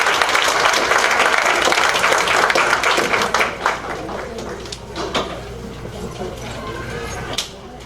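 An audience at a school district board meeting gives a round of applause, sustained clapping that thins and fades out over several seconds.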